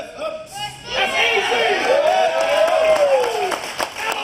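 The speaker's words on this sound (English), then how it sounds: "the crowd goes wild" A crowd cheers and applauds a bench press lift at a powerlifting event, with a sustained wash of clapping and voices and a rising whistle or shout riding over the noise.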